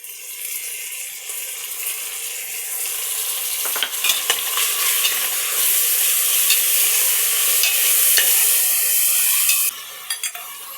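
Browned onions fry with ginger garlic paste for chicken biryani, giving a loud, constant high sizzle. Scattered stirring scrapes sound up close, and the hiss drops off near the end.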